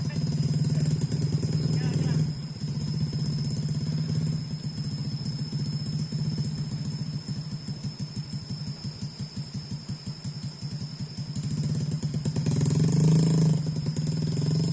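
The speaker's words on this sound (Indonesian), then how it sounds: "Motor yang kosongnya terpaksa mundur." An empty motorcycle engine revs and putters while backing along a muddy rice field track in the rainy season, rising at the start and end with a steady rapid chug between, under a voice.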